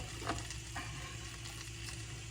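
Garlic and ginger fry in a pan as the start of a vegetable soup, giving a faint, even sizzle with a couple of soft stirring scrapes. No one speaks.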